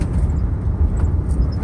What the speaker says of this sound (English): We're driving to the campsite now.